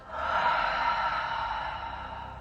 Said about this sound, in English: big deep breath in and out